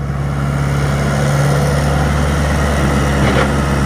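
A Komatsu PC60-5 small excavator's four-cylinder non-turbo diesel engine runs steadily at a constant idle-like drone, loud and close, with no speech.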